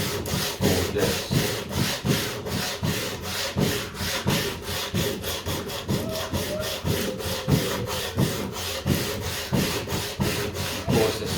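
Wood being sanded by hand for a small planter, a steady run of scratchy back-and-forth rubbing strokes in an even rhythm, close and fairly loud throughout with no talking.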